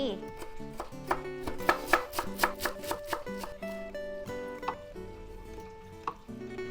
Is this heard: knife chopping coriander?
yes